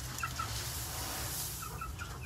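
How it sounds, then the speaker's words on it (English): Chickens and a large rooster cluck in short, scattered bursts at moderate distance over a low, steady background rumble. "That big rooster right there."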